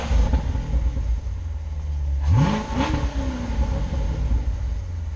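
A C7 Corvette engine gives a quick pair of revs, the pitch sweeping up and falling back over a steady low rumble, with no talk.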